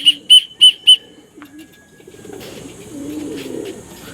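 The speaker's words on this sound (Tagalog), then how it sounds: "Dami pang nagdadaanan mga kalapatids." Pigeons flying past: four sharp whistling wingbeat bursts in quick succession, then a softer fluttering and flapping of wings that builds and lingers nearby, with no talking.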